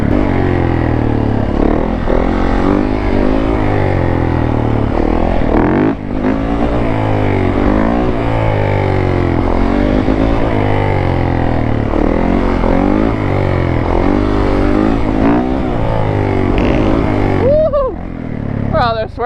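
A Yamaha YZ dirt bike ridden in a lot and on the street, its engine revving and rising and falling in pitch through repeated throttle bursts, loud and close, with a brief lull near the middle and a voice heard over it.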